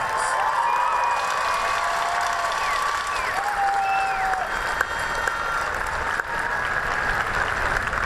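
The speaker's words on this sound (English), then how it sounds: "Please give them all a big round of applause." Steady, dense applause from a large graduation audience at McMinnville High School fills the whole stretch, sustained and even throughout, with faint cheers or whistles rising over the clapping.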